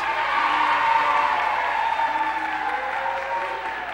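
Steady applause from a TV studio audience at a 1978 Brazilian variety show, a dense even patter of many hands sustained throughout with no talk on top.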